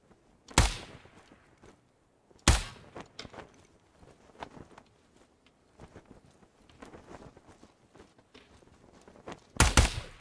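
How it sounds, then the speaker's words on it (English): High-caliber rifle shots ring out in the tactical shooter game Ground Branch, three sharp loud cracks spaced several seconds apart, with quieter footsteps and movement clatter between them. "Sounded like a high caliber rifle"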